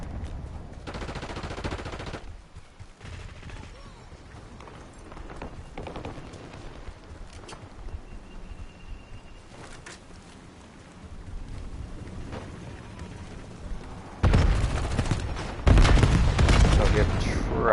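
Gunfire from a gun in the Call of Duty Black Ops 7 multiplayer video game, with bursts of shots early on and louder rapid firing near the end, mixed with game noise and voices.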